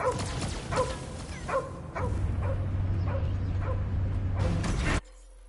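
Dog whimpering and barking in the Guardians of the Galaxy video game, several short yips and barks in the first two seconds, then a steady mechanical hum under further whines until it cuts off.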